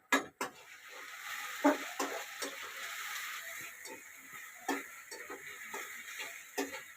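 Onions frying in a pan for fish patura, a quiet steady sizzle broken by a spatula's scattered stirring clicks and scrapes against the pan.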